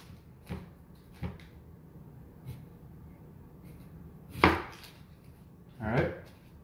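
A kitchen knife chops through the ends of an onion on a cutting board: five sharp, separate thuds spread across a few seconds, the last two louder and closer, with a quiet room otherwise.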